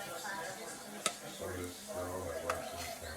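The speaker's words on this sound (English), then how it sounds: "I then added a bunch of minced garlic so it would take away that plant flavor" Minced garlic and asparagus sizzle gently in a pan on low heat, a soft steady frying hiss with a couple of sharp utensil clicks close by, while a voice talks over it.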